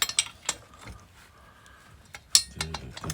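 A ratchet works on the single bolt holding the brake plate of a Honda Big Red 250ES, giving quiet, scattered metallic clicks close by, then a sharper clatter of metal parts near the end.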